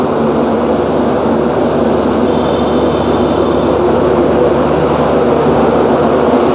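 The Kolkata to Jammu express, train 13151, pulling out of Kolkata station: a loud, steady rumble and rolling clatter heard from on board, continuous with no voices.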